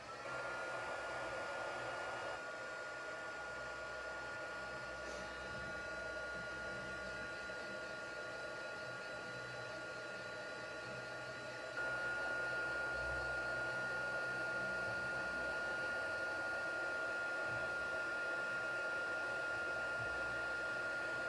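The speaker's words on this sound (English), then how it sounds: "I'm going to use the heat tool" An embossing heat tool's steady, loud blowing whir runs unbroken throughout, with a slight shift in pitch and level partway through.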